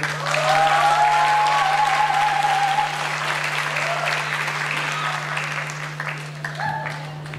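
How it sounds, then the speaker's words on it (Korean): An audience at a public hearing on a local football club claps in sustained, dense applause that gradually thins out over several seconds, with a steady electrical hum underneath. "큰 박수를 맞이해 주십시오"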